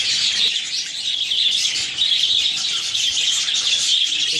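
Budgies in a breeding box with chicks give a steady, dense chatter of high chirps and tweets, close and continuous throughout with no pauses.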